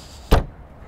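A single solid thud as a car door is slammed shut outdoors on a cold day by the water, loud and close, then a brief fading rumble.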